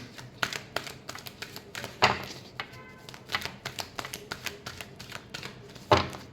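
Tarot cards being shuffled by hand during a reading, giving soft irregular taps and riffling clicks with a couple of louder slaps, close and fairly quiet, with no voice over them.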